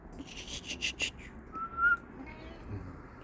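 A person whistles a few short, rising notes, soft and close, with quiet background noise in between.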